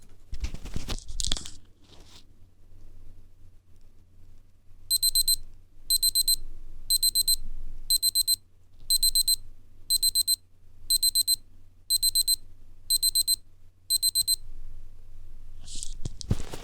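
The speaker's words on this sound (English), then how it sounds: "I'll quickly show you just what it sounds like when the timer goes off" A Casio A-220 digital watch countdown timer alarm beeps in ten quick bursts about a second apart, bright and shrill, with a couple of button clicks before and after.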